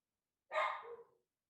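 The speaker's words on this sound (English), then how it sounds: "The dogs continued to bark." A single short dog bark sounds faintly from a distance during a quiet civic commission meeting.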